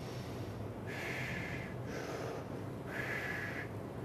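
Slow breaths drawn through a respirator mask during a half or full-face fit test, three hissing, filtered breaths spaced about a second apart, close to the mic over a steady background hum.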